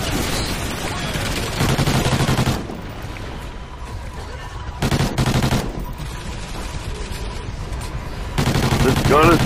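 Burst-fire gunshots in Call of Duty Ghosts Extinction, with rapid loud bursts arriving in three distinct clusters separated by quieter stretches of game ambience; voices talk faintly in between.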